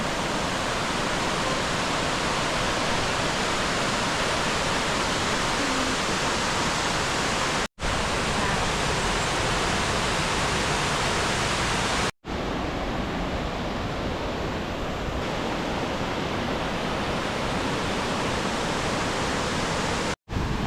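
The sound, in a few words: waterfalls at Rastoke village, Croatia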